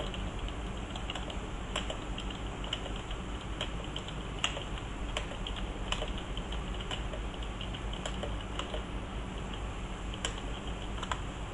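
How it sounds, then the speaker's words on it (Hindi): Typing on a computer keyboard during an Urdu typing lesson, slow steady key taps spaced about half a second apart, close and clear over a constant low hum. "याद रखिएगा, मैं ये चाहता हूँ कि आप स्लो टाइप करें, जल्दी टाइप करने की ज़रूरत नहीं है।"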